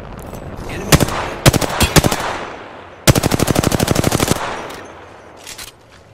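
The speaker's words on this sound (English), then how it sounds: "Taking fire." Automatic gunfire in a battle royale shooter game: scattered single shots, then a sustained rapid burst of evenly spaced rounds, loud and close, with no talk over it.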